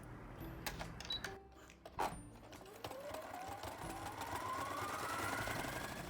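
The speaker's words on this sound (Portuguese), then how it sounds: "vamos costurar no risco" Sewing machine stitching along a drawn line on fabric for a soft bunny comfort toy, a steady mechanical whir with a few clicks at first, building into a continuous run that grows slightly louder toward the end.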